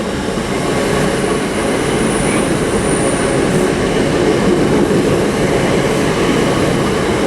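Class 387 electric train 387133 pulls into a station, a loud, close, continuous roar of wheels and traction, with faint high squeal touches and no voices.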